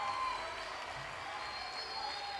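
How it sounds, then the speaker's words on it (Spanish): Distant festival crowd applause at a folk music festival, a soft continuous wash of clapping and murmur heard faintly from afar. "Fuerte, fuerte ese aplauso"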